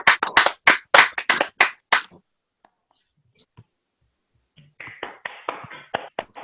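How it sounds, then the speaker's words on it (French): Clapping closes an online association general meeting held over Zoom: a brisk round of close handclaps, a quiet pause, then a second, softer burst of claps. "On applaudit"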